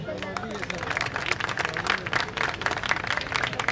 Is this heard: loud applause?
yes